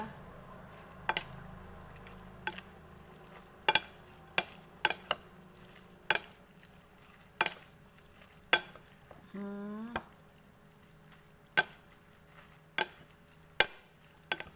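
Rice noodle salad is tossed with blanched pork sausage, giving soft squishy mixing under a regular series of sharp clicks of utensils against a bowl, close and fairly quiet, with no one speaking.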